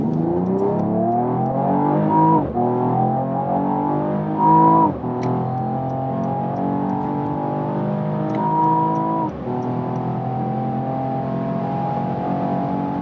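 Mercedes-AMG E53 estate pulling hard on a motorway from about 40, steady rising engine note through several upshifts with brief dips between gears, close and sustained, no talk.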